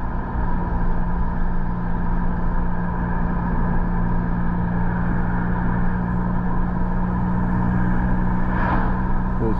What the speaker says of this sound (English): We're just driving alongside lovely scenic Lake Macquarie.